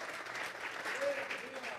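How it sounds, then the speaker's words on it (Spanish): Congregation clapping during a church sermon, a steady wash of applause that carries evenly from start to finish, loud and unbroken. "Dele fuerte esas palmas al Dios de la gloria."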